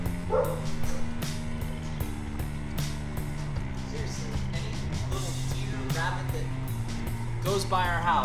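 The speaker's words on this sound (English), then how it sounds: "Barking at everything." Dogs bark at everything, with repeated bow-wow barks and yips sounding over a continuous layer of video game music.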